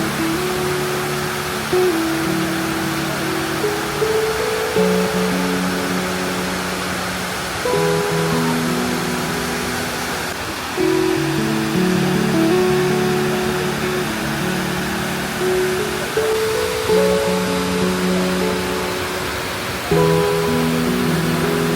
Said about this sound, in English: this here is the North Tower Memorial, and obviously the water is flowing on this one